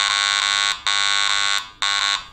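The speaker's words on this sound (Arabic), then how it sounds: "لو اشغل صوت الحديد راح يعطيني هذا الصوت على الحديد" A Garrett AT MAX metal detector sounds a bright, buzzy electronic iron tone in three repeated bursts separated by brief silent gaps, loud and close.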